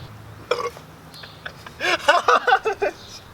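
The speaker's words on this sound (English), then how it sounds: "I just keep burping." A man burps repeatedly while eating bananas, a short burp followed by a longer run of several croaking belches in quick succession, close and loud.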